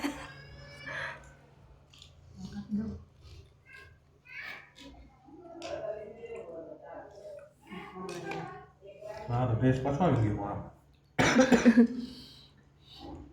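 People chat nearby while someone coughs a few times, the coughs growing louder toward the end amid the conversation.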